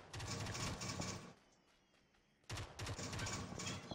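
Bursts of automatic gunfire from a squad shootout in PUBG on the Karakin map, two dense volleys separated by a quieter lull, loud and close.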